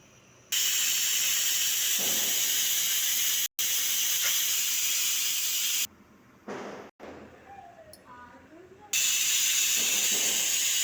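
A pressure cooker on a stove cooking prawn biryani releases loud, sustained steam hissing in long bursts that cut off abruptly and restart, with brief quieter pauses between jets.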